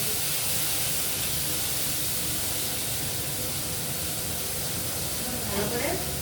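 Potato and eggplant pieces fry in hot oil for a Bengali prawn dish, giving a steady, loud, broadband hiss and sizzle that fills the whole stretch without a break.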